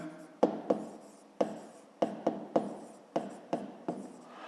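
A pen scratches across paper during a fifth-grade maths exercise, giving quiet, close strokes in short irregular bursts with sharp starts, alone in a still room.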